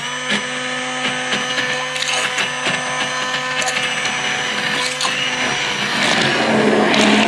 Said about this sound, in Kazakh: Оны да блендермен езіп аламыз.